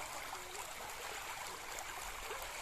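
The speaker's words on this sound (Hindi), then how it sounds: "रोड पे पानी चल रहा है" Fast floodwater rushes steadily over a flooded village road, a faint, continuous broadband wash of flowing water with no voices.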